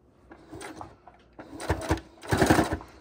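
Sewing machine making a close stitch around a scrappy heart pillow, short uneven bursts of needle chatter that build louder toward the end, near and without talk.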